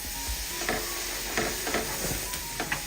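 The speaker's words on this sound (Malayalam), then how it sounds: "ഈ ഒരു സമയം നമ്മൾ അരിച്ചെടുത്ത ഓട്സ് പൊടി ഉണ്ടല്ലോ, ഇതൊന്ന് ഇട്ട് കൊടുക്കാം. എന്നിട്ട് ഇളക്കി കൊടുക്കുകയും കൂടെ ചെയ്യാം." A spoon stirs sifted oat flour into boiling water in a pot, giving soft scraping strokes over a steady bubbling hiss, with several short stirring bursts spaced through the moment.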